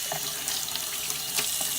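Hot water pours steadily from a tap into a sink, a continuous broadband hiss and splash, close and fairly loud, with small gurgles and bubbles over about two seconds and no talk.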